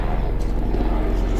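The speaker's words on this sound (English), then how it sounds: "Sorry about that helicopter." A helicopter passes overhead above an outdoor garden, a loud, continuous low rumble with a steady beating throb that fills the whole moment.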